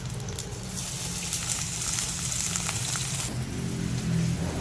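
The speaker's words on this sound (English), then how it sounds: "Just about 3 tablespoons of oil will do. Let's add in our garlic and onions." Garlic and onions sizzle in about three tablespoons of hot oil, a steady, fairly quiet hiss and crackle that drops and softens partway through.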